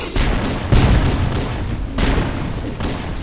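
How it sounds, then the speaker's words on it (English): Booming grenade blasts in Halo land in heavy, close thuds, two big hits about a second apart followed by rumbling echoes and a third swell. "Watch out, I threw a grenade over there."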